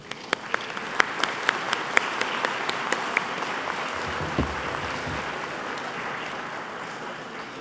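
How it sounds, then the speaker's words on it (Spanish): Audience applause at an environmental justice panel session of a conference, a steady wash of clapping with a few sharp nearby claps standing out early, sustained throughout at moderate level. "Para todos les pido un fuerte aplauso"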